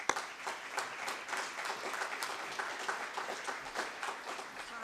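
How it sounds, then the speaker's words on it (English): An audience applauds a speaker at a Connecticut environmental protection briefing, a steady round of many hands clapping at moderate distance that fills the room without a break. "So give a round of applause for Nisha Patel."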